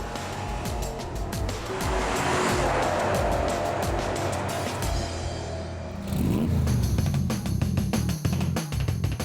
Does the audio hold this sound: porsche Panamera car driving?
yes